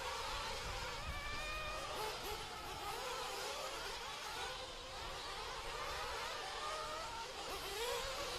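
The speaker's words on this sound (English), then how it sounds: "As Bornhorst heading up and over the triple there, working his way around here for the lap of number 1" Electric RC trucks race around an outdoor dirt track in a ROAR event heat, giving a continuous high whining buzz of several motors that rise and fall as they pass, at moderate distance over broad crowd and ambient noise.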